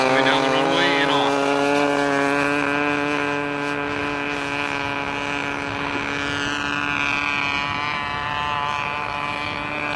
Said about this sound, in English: He's opening the throttle. Airplane is going down the runway and off.